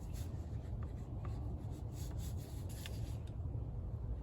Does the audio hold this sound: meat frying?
no